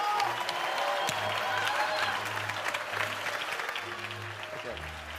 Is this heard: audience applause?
yes